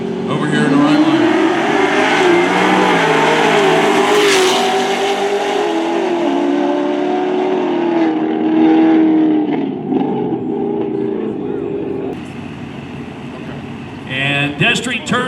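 A C6 Corvette with an LS3 engine roars down the strip at a Halloween drag race at Lake Cumberland Dragway, loud and close, its engine note climbing through gears before fading, under announcer commentary.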